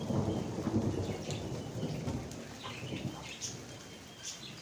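Steady rain falls beside an outdoor parrot aviary, with low, rolling thunder rumbling through the downpour and a few brief louder gusts, with no talking.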